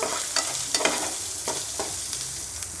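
Crab curry with turmeric and chili powder is stirred in a frying pan, with a steady close sizzle broken by several scraping strokes of the spoon at an uneven pace and no talking.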